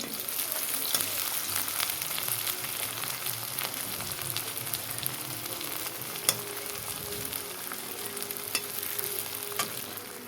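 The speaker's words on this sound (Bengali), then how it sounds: "দেখো বন্ধুরা তেলের মধ্যে পেঁয়াজ দিয়ে দিলাম" Onion fries in hot oil for a tomato and rohu fish curry, giving a steady, close crackling sizzle with scattered sharp pops throughout.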